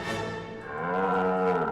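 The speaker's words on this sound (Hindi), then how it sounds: "ये भैंसा यहाँ कैसा?" A buffalo bull moos at a police station, one long, low, droning call that rises slightly and holds, close and loud.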